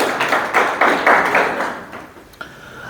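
A group in an English communication class claps for a student, a short burst of brisk applause that fades out within about two seconds.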